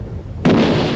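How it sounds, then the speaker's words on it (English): Coastal defence guns open fire on the German cruiser Emden in the harbour at Madras: a sudden loud boom erupts partway through and rolls on as sustained heavy rumble. "The coastal defences open fire"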